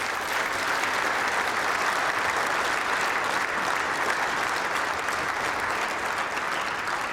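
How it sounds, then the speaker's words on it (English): Spectators at a youth national bowls final applaud steadily for about seven seconds, an even, moderately loud patter of many hands heard from a short distance. "a huge round of applause for that performance there"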